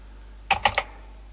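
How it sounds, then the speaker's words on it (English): Keys on a Sinclair ZX81 computer keyboard bashed hard, three quick taps in a row, close and distinct against a quiet, low-humming background. "You really got to bash these keys, I think."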